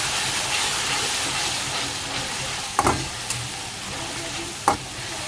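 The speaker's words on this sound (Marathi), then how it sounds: "त्याच्यात टाकूया हिरवी मिरची, कोथिंबीर, आलं लसूण आणि जिऱ्याची पेस्ट. एकत्र करून घेऊया." Green chili, coriander and ginger-garlic-cumin paste stir-fry in a hot pan for a mixed vegetable dish, a steady loud sizzle with a few sharp spoon scrapes and clinks near the end.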